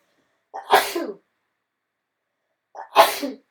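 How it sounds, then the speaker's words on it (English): Two loud sneezes, one after another with a pause between, in an otherwise silent room. "Oh, I'm going to sneeze."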